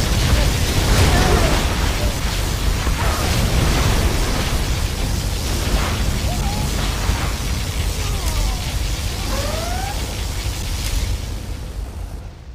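Repeated particle cannon blasts from the Command & Conquer Generals Zero Hour video game, heavy booming bursts over a constant roaring battle din, loud and dense throughout with occasional zapping laser tones.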